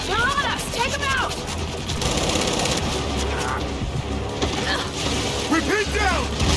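Sustained turret and machine-gun fire from the Gears 5 video game rattles continuously with dense bursts of shots, while voices shout over the noise.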